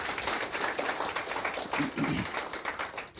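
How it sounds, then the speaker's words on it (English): A crowd at a city council meeting claps continuously in a dense, steady patter, with a few faint voices mixed in. "Definitely worthy of applause."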